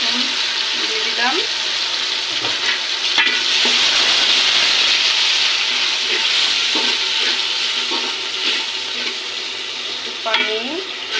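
Ginger-garlic paste sizzles loudly in a hot pan while being stirred, a steady frying hiss broken by scraping strokes of the spoon.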